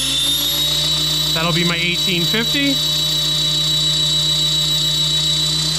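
Electric motor of an RC helicopter (AK700 with a Castle Creations Phoenix Edge HV 160 ESC) whining at a steady high pitch with tonal hum, while someone talks briefly over it near the start.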